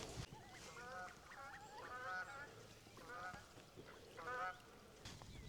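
Ducks call in a series of nasal honking quacks at moderate distance, several bursts spaced across the clip over outdoor ambience.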